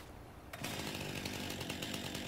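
A chainsaw in Farming Simulator 19 kicks in after half a second and runs as a loud, steady buzzing drone with slight rhythmic pulsing, alone without speech.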